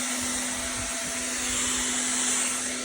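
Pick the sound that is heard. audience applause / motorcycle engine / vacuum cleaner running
vacuum cleaner running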